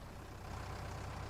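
Fiat tractor engine idling in Farming Simulator 19, a steady low rumble with a regular pulsing throb, close and constant throughout.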